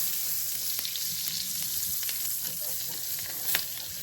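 A couple of tablespoons of butter sizzle in pork chop drippings in a skillet, with a loud, continuous, hissing fry and faint crackles up close.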